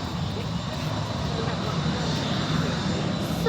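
An Airbus A320 at Manchester airport produces a steady, loud jet roar that holds evenly throughout, with a faint voice briefly audible near the end.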